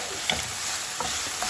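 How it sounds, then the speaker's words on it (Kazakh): Food stirred and fried in an open pan for a chicken-and-mushroom quiche filling, a steady soft sizzle with a few scraping utensil strokes, close and quiet with no talking. "Міне осылай жақсылап қуырамыз, араластырып тұрамыз."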